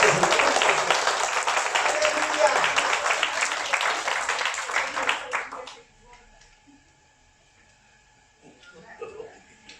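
Church congregation claps together in sustained applause for about five seconds, then cuts off abruptly into near quiet with faint background sounds.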